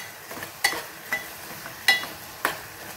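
A spoon stirs a tomato and broad bean masala curry seasoned with salt and chili in a pan, four or five distinct clanks against the metal over a faint low simmer, close and otherwise quiet.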